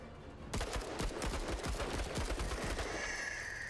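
In the video game Menace, dense automatic gunfire breaks out as a rapid rattling burst of many shots. It stays loud and continuous for several seconds, with no voices over it.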